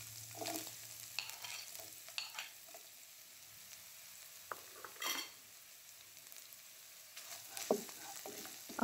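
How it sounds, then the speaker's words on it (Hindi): A small chopped onion fries lightly in a pan for a spicy chicken vegetable pasta, a soft sizzle broken by intermittent scraping stirs and light utensil clinks, fairly quiet with no talking. "अब मैं इसमें करूंगी प्याज को हल्का सा फ्राई"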